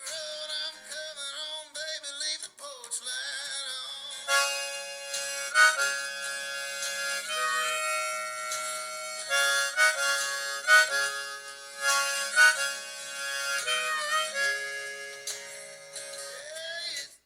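Solo harmonica melody with bent, wavering notes and sustained reedy tones, played up close with no other instruments.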